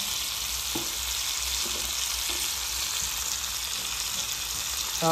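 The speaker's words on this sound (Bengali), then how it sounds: "এবার আমরা এর মধ্যে দিয়ে দেব একটা কুচানো পেঁয়াজ" Chicken pieces sizzle steadily in a hot pan with chopped onion, a constant broad hiss with a few faint stirring knocks, close and fairly loud throughout, no talking.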